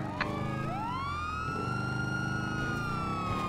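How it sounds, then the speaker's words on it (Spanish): A police car siren from a roleplay video game wails nearby, its tone sweeping up and then holding a long high note, with a low engine hum beneath. "Apaga sirenas, a ver si lo escuchamos."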